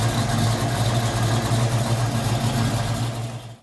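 A car engine idles steadily after an in-line fuel pressure gauge install, a smooth low rumble with a constant hum that holds evenly before cutting off abruptly at the end, with no talking.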